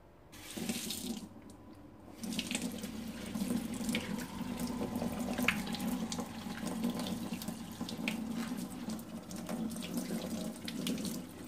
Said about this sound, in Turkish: Çeşmenin altında yıkayacağım şimdi.